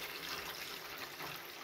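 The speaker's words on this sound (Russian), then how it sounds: "Сейчас плескается." Tree sap sloshes and splashes inside a bucket, a brief, faint, continuous watery slosh.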